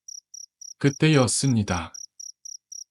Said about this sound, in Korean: 매미들이 미친 듯이 울기 시작했습니다